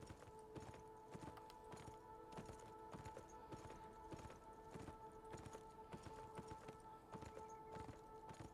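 Horse hooves clip-clop steadily at a walking pace in the video game Beyond Two Souls, a regular rhythmic clatter heard close and clear with no talk over it.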